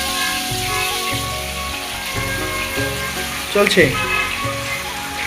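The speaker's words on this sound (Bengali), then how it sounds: "এখন আস্তে আস্তে মাছগুলো ভেজে নেব" Rupchanda (pomfret) fish pieces frying in hot oil, a continuous crackling sizzle under bursts of background music and a woman's brief speech, with a clatter partway through.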